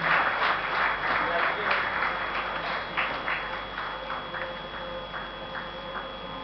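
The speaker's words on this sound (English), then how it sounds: "maybe we can have a round of applause" Audience applause at the Smart Green Awards 2016 ceremony, a broad sustained round of clapping with distinct individual claps, slowly thinning toward the end.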